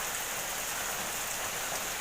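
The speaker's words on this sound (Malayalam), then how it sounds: "നല്ല മഴ ഗൈസ്, കണ്ടോ, നല്ല മഴയും പെയ്യുന്നുണ്ട്." Heavy rain pours outside a house in a steady, close hiss of drops on surfaces, with no voices.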